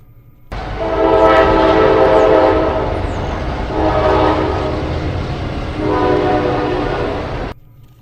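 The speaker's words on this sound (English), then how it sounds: "Trains rumble through the industrial region of Little Italy." A train passing through the industrial district of Little Italy in Erie, its loud horn sounding three long blasts over a heavy continuous rumble of wheels and wagons that cuts off abruptly at the end.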